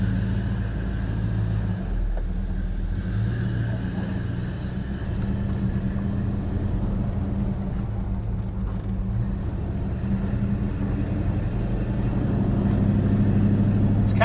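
A 1969 Dodge Super Bee being driven, heard from inside as a steady, loud low engine drone and road rumble that holds constant throughout with no speech.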